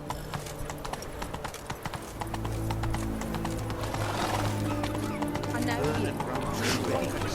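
In The Witcher 3, Roach the horse gallops with a fast, even clip-clop of hooves, loud and close over a droning game soundtrack, and voices talk through it.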